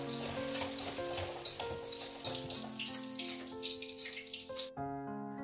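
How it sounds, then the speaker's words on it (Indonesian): Tofu fries in a pan with a steady close sizzle and crackle, while a melodic tune plays over it until the music cuts out near the end. "Nah setelah tahunya digoreng dan matang"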